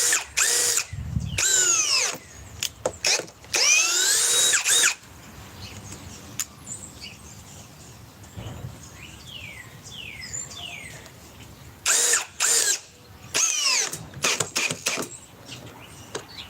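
A cordless drill whirs in several loud bursts, starting and stopping repeatedly as it binds and cuts out, with quieter mechanical clicks and whines in the pauses.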